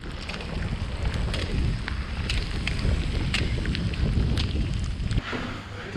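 Steady rushing waterfall roars under gusty wind buffeting the microphone, a continuous dense wash of noise with no voices.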